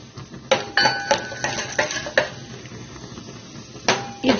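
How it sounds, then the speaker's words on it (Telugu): Almond and cashew pieces fry in a spoonful of ghee in a pot, a utensil clinking and scraping against the metal in quick irregular taps. "బాదం, జీడిపప్పు ముక్కలు వేసుకుని వేయించుకోవాలి"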